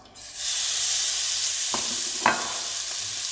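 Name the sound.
chicken frying in a hot pan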